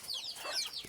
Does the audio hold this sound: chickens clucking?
yes